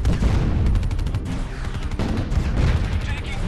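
Gunfire in the real-time strategy game Art of War 3: continuous loud bursts of automatic fire and heavier booms layered together, close and dense for the whole stretch.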